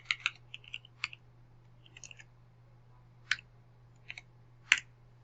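Keys tapped on a computer keyboard while entering programming code, a handful of sparse, close clicks and short bursts spaced irregularly over a low steady hum, with no talking.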